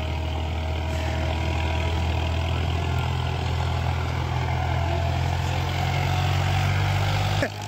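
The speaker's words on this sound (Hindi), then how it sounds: "पहले गियर में चल रहा है और 16 डिस्क की है रो" A tractor in first gear pulls a 16-disc harrow across a field, its engine giving a steady, loud, low drone that holds even throughout and then cuts off abruptly near the end.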